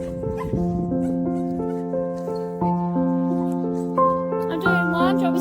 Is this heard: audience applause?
no